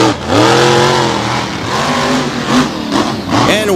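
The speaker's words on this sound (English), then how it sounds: "Here's husband and wife in the near lane." Two extreme drag racing machines from Kansas launch off the starting line, engines roaring loud and close and climbing sharply in pitch as they accelerate away, with a second surge of revving before fading slightly.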